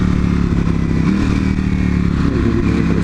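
A Yamaha R6 superbike motorcycle passing close by on the road, its loud, steady engine drone filling the whole moment with a slight rising pitch.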